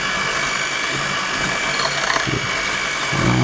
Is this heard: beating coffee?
yes